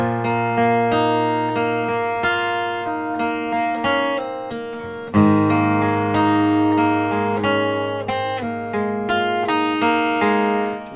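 Two guitar chords played in alternation, picked notes ringing together and sustaining, clear and alone with no voices.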